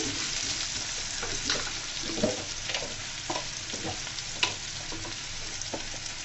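Par-boiled potatoes sizzle steadily in hot oil in a pan while a spoon scrapes and stirs them every second or so, a close, continuous frying hiss broken by clinks and scrapes.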